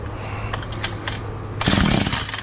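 Husqvarna chainsaw with a suspect cheap spark plug being pull-started: a few short rasping pulls of the starter cord, then a louder burst as the engine briefly sputters and catches before fading.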